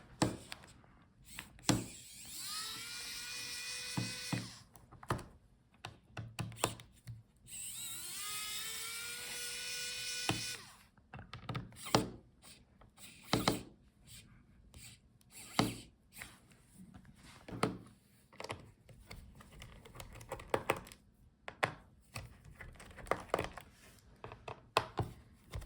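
An electric screwdriver whirs up and winds down twice as it backs out the bottom case screws of a Dell Pro Plus 14 laptop, followed by many small clicks and taps as the screws are lifted out.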